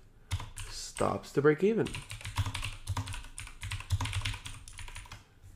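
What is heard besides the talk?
typing on a computer keyboard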